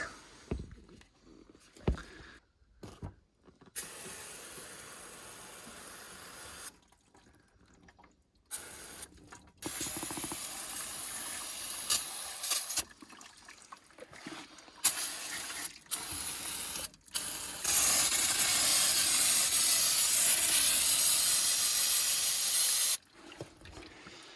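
Brake cleaner sprayed from aerosol cans onto the brakes of a Ford F250 6.9 IDI diesel truck, loud hissing bursts of varying length with brief gaps, ending in a long sustained spray.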